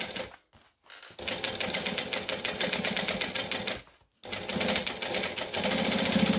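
Close, loud rapid stitching from a sewing machine working on a wallet, in three runs separated by brief pauses, with the final run carrying on steadily to the end.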